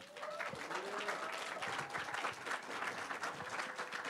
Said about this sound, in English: please give our lovely guest a round of applause as well